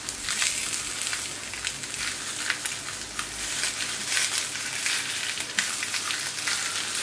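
Beef and peppers sizzling on a hot plancha, a close, steady hiss with frequent sharp spits and crackles, no voices.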